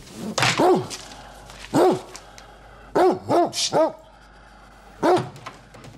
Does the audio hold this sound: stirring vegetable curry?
no